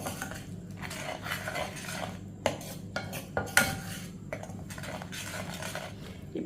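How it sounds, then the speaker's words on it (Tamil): A utensil scrapes and clinks against a pan while salt, Kashmiri chili and other spices are mixed in, with irregular close taps and a few sharper knocks over a low steady background. "இது எல்லாத்தையும் நல்லா மிக்ஸ் பண்ணிக்கிடுவோம்."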